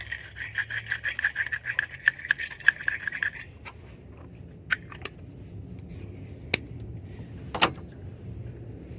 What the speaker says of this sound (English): get a battery brush. Clean out the inside of your terminals.